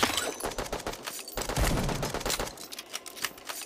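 Shotgun blasts from the mobile video game Bullet Echo crack out in a rapid, close string of sharp, loud shots with no talking over them.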